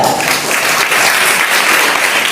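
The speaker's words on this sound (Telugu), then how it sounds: "గట్టిగా చప్పట్లు కొడదాం." A church congregation claps loudly during a sermon. The applause is dense and steady and stays close and sustained from start to end.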